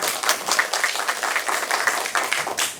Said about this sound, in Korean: 오늘 좌장으로 수고해 주실 이지수 교수님께 환영의 박수 부탁드립니다.